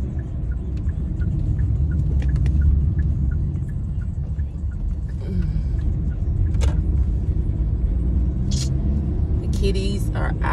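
Cars in school traffic roll past with a continuous low road rumble and engine drone, moderately loud and close, with a few sharp clicks and jingles toward the end.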